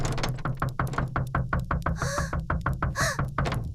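Rapid, loud knocking on a door in a cartoon kitchen, a fast run of sharp raps continuing throughout with two short bright bursts of sound between them, no voices.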